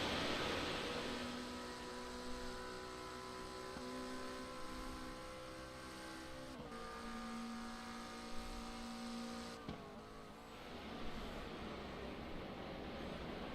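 Race car engines in the iRacing sim at the Bathurst 12 Hour, a steady droning whine with stacked harmonics that shifts pitch a couple of times, running continuously and fairly loud with no talk.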